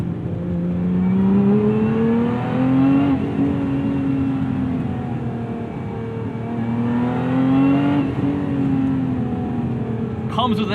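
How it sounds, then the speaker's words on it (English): The engine of a 2024 Lotus Emira revs hard and loud at close range. Its pitch climbs steadily toward the red line, eases off, then builds and peaks a second time before falling away. "The sound builds and crescendos too late in the rev range"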